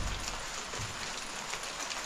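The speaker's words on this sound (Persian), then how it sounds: "در حال بارش تگرگ هست." Hail falls steadily on surfaces in a village during winter, a dense and continuous patter of small impacts that stays even and moderately quiet throughout.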